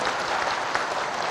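A short stretch of full-room applause from an assembled audience at a religious address, thick overlapping claps holding steady throughout.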